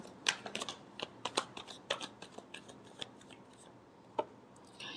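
Tarot cards being shuffled by hand, heard as quick, quiet riffling clicks and taps in uneven bursts, close but soft, with a few sharper snaps and no speech.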